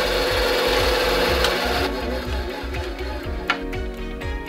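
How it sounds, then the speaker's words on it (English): Saw cutting squarely through a PVC tube, the blade rasping in steady back-and-forth strokes that sound close and loud, then easing off near the end with a small knock. "Make a clean, squared-off cut."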